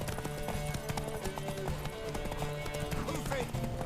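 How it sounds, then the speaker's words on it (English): Steady clip-clop of horse hooves at a walking pace in the video game The Witcher 3: Wild Hunt, with music and murmuring voices underneath. "Want that horse, don't ya?"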